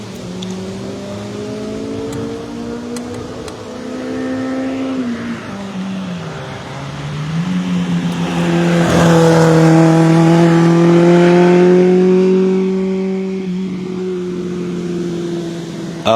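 Race cars climb a hill in a double run at a hill-climb event, engines revving and shifting gears, swelling louder as they pass near, then fading into the distance, with a faint commentator's voice in the background.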